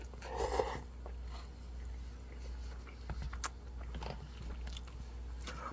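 Someone eats vegan ramen with tofu and crunchy vegetables, giving soft, close biting and chewing crunches in irregular bursts, one louder bite near the start, all quiet against a low steady hum.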